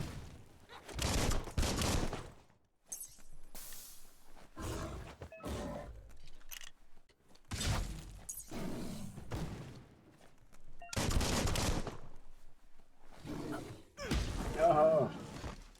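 Gunfire and creature roars from the video game Biomutant come in several loud, broadband bursts with gaps between them. Close, heavy blasts and growls mix with bits of a voice talking.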